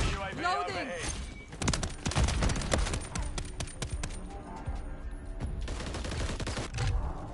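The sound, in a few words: shotgun fire in Modern Warfare III video game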